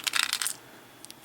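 Glass beads clink and rattle against each other in a quick cluster of bright, close taps, then a few scattered clinks follow after a short pause.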